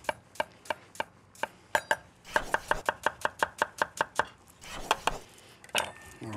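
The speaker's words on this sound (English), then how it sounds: "I got to chop a quick onion in there." Knife chopping an onion coarsely on a cutting board, a run of sharp, close, evenly spaced chops that speed into a quick rapid burst before slowing again, with a few softer scrapes at the end.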